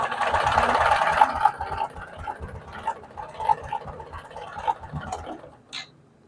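A Honda Karisma motorcycle engine with a noisy, worn top end fires up and settles into a close, steady idle with a pulsing, knocking rhythm, then cuts off near the end.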